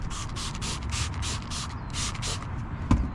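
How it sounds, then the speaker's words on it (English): About a dozen quick hissing bursts of detail spray come in a steady rhythm over a constant low rumble, followed by a single sharp knock, on a Chevy Silverado 1500 mudflap area. "Take your detail spray"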